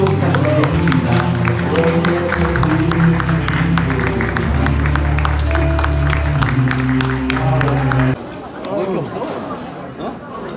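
An audience breaks into loud applause, dense clapping mixed with crowd voices, then cuts off sharply near the end, leaving quieter talk and murmur.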